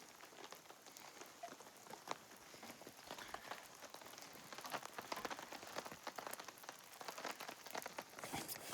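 Rain pattering on a tent at night while camping off a forest road, a soft continuous hiss of drops with scattered sharper taps, close but fairly quiet and alone.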